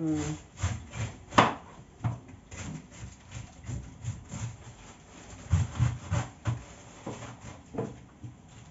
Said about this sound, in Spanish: Estamos picando el repollo.